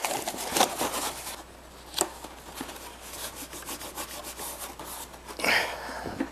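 Cardboard box flap being tucked down inside a box, producing close scraping and rubbing of cardboard with a few sharper crinkling bursts, quiet and intermittent.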